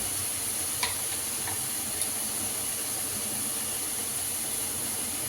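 Steady sizzle and hiss of pasta frying in a pan, a continuous even crackle with a couple of faint clinks, no talking.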